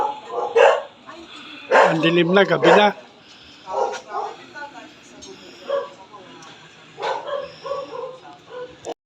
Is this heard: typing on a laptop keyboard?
no